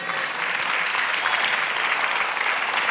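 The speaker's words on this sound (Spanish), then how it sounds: "Dale aplauso." Steady applause from a church congregation during a sermon on eternal life, a dense wash of clapping that holds evenly for the full stretch without pause.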